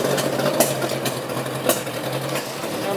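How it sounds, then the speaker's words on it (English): A classic hot rod race car engine cranks and rumbles in the pits at Ipswich, a steady mechanical churning with a low hum and a few sharper knocks, loud and close. "seeks to get the engine going on the 162 car just"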